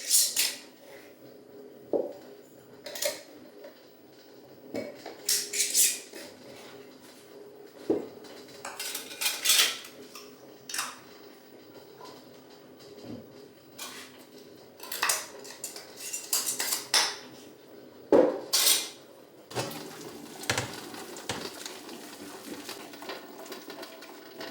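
Glass jars of marinara sauce clink and knock against the metal of a boiling-water canner, with repeated irregular clatters and scrapes over a quiet background.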